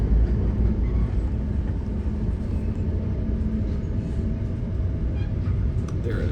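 Metra commuter train #1227 on the run from Chicago to Naperville, heard from on board as it gets moving again: a steady, loud low rumble and rolling rail noise that continues without break.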